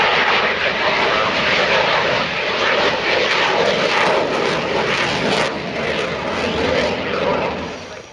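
Fixed-wing aircraft at an air show, with a steady loud engine roar that holds for several seconds as it flies past before easing slightly at the end.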